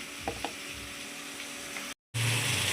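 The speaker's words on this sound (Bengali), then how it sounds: "দেখো একটু জিরে ফোড়ন দিলাম" Cumin seeds dropped into hot oil in a pan, giving a bright, steady sizzle and crackle with a few sharp pops, heard close up before a brief cut and a louder burst of frying.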